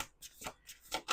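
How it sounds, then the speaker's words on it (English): Playing cards riffled in a brief, quiet shuffle at a table, a few soft crisp bursts of flicking close by. "Last shuffle."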